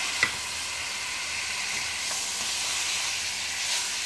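Already cooked beef is tipped into a hot pan for beef kabsa and sizzles loudly and steadily, a close hissing fry with a sharp clatter at the start and light stirring, no talking.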